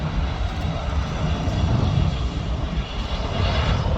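A Lufthansa airliner passes at Manchester Airport, a steady broad jet roar with no other sound, holding loud and close for the whole few seconds.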